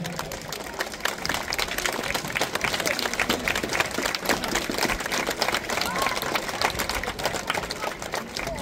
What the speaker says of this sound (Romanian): Dar încă o dată aplauze.